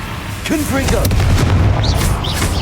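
A Confringo fire spell in Hogwarts Legacy bursts with loud, deep booming blasts amid dense in-game combat noise, with voices heard throughout.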